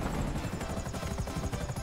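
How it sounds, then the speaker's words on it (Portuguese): A GTA 5 Online helicopter drones loudly with a fast, steady rotor chop as it settles onto a building platform, with no talking. "Só vocês pousarem o helicóptero nessa plataforma aqui."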